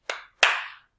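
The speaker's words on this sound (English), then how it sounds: "Tap your toe, clap your hands." Two crisp hand claps, close and fairly loud, spaced about a third of a second apart during a children's singing game, with no voices over them.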